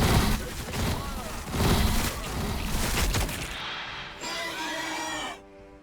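Tyranid Hive Guard units opening fire in the strategy game Warhammer Battlesector, a dense, loud barrage of overlapping shots and impacts that thins out and fades in the last seconds.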